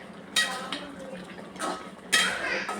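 Ivy gourd gravy is stirred in a pan, the spoon clattering and scraping against the metal in three distinct bursts with quieter bubbling between them, close and fairly loud.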